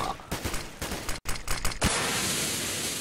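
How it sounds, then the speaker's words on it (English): Gunfire bursts in a competitive shooter video game, a quick string of close shots with a brief dropout, followed by a steady rushing hiss. "Careful, they're shooting there."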